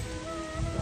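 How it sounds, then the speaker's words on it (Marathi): Heavy rain pours steadily during a pilgrimage walk from Khopoli toward Aai Ekveera, a dense continuous hiss with low rumble, close and unbroken for the whole moment. "भरा पाऊस व किती पडतो आहे."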